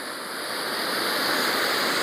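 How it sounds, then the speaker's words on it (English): A small Scottish waterfall pours down over rocks in a steady, broad rush of falling water, close and continuous throughout with a slight swell toward the end. "just a basic waterfall coming down"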